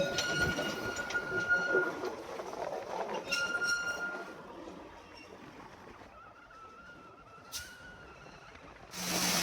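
A Darjeeling toy train passes close by near Kurseong, with a steady mechanical rumble, a sustained high wheel-squeal or whistle tone, and a louder burst of noise at the very end.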